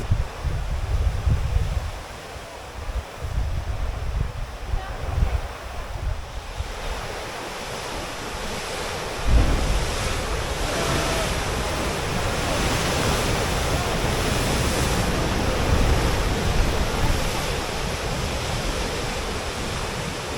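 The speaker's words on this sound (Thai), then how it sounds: "ที่คลื่นทะเลมาแบบระห่ำเลย" Heavy ocean surf pounding the cliffs at Angel Billabong and Broken Beach on Nusa Penida, Bali, a continuous loud roar of crashing waves with wind buffeting the microphone, one stronger surge midway.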